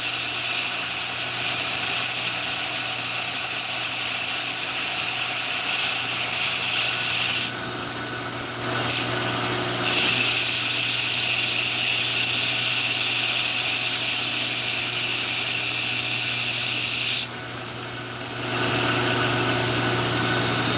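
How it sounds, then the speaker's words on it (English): Steady abrasive roar of a grinder shaping a forged knife blade in a blacksmith shop, continuous and close, with two brief dips in the high grinding hiss as the blade lifts off the wheel. "I'm just going to grind a little bit of a finger weld"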